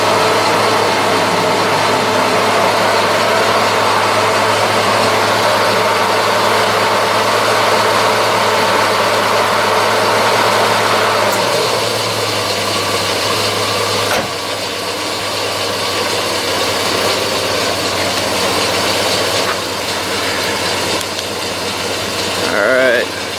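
A 1989 Jeep Cherokee engine idling, producing a loud, steady, continuous rumble with an even drone that holds throughout, with faint shifts partway through.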